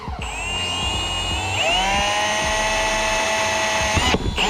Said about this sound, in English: take my drill bit and drill a pilot hole right where I need to